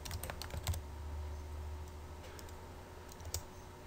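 Computer keyboard typing while editing a config file on a CentOS 7 server, a few quick clusters of key clicks near the start and again toward the end over a steady low hum, no speech.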